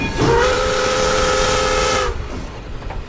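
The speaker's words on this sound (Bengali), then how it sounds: "বাঁকের মুখে আচমকা একটা তীক্ষ্ণ রেলের বাঁশি" A sharp steam railway whistle shrieks for about two seconds in one loud, steady tone with a hiss, then cuts off, leaving a faint rumble.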